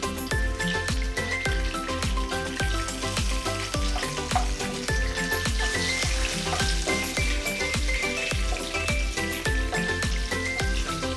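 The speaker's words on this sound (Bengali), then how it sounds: "শুকনো লঙ্কা একটু ফাটিয়ে দিয়ে দিলাম, গরম মশলা দিয়ে দিলাম" Dried red chillies, garam masala and bay leaves sizzling in hot oil in a pan on medium flame, a continuous crackling fry with sharp spitting pops and a few stirring scrapes, close and fairly quiet.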